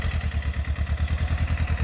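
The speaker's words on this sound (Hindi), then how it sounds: "अभी ट्रैक्टर चलना थोड़ा मुश्किल हो रहा है क्योंकि बहुत बंजर होने से" A tractor engine runs in a heavily overgrown field, a close, loud, steady clattering thump with a fast, even pulse and no talk.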